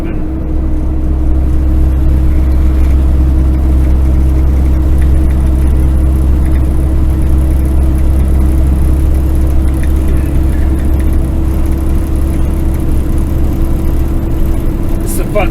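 A truck climbs a mountain stretch of Wyoming Highway 14 in the Bighorn Mountains with a loud, steady low engine drone and road roar, heard from inside the cab.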